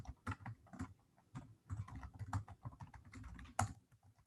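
An email address is typed on a computer keyboard, a quick irregular run of close, crisp key clicks with short pauses between bursts.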